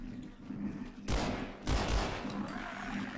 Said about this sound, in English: Now my Glock is unsuppressed.